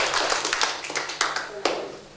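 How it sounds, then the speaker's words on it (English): Beatboxing workshop participants give themselves a round of applause, a dense burst of many hands clapping close by that thins out over about two seconds. "A round of applause for yourselves"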